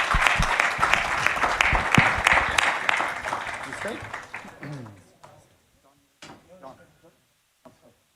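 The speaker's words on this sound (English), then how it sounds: "Please join me in giving him a big round of applause." Audience applause at the USISPF India Leadership Summit 2024, dense clapping for about four seconds that thins to scattered claps and fades, with brief talking near the end.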